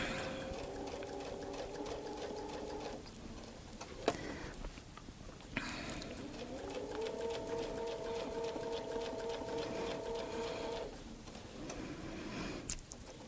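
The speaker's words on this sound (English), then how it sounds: "you would normally sew all of the Baptist fans going across a quilt" A sewing machine quilts a Baptist fan pattern in a quiet room, running in steady whirring bursts with short pauses and soft clicks between stitching runs.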